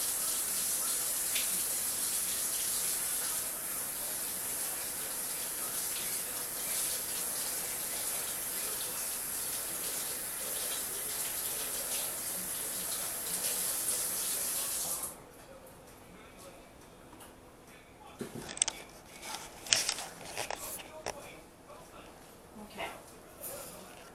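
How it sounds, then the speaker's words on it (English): Tap water runs steadily into a sink in a home kitchen for about fifteen seconds while hands are washed, then stops, leaving a few soft clatters and knocks. "Wash your hands all the time."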